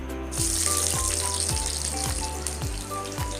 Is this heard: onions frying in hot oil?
yes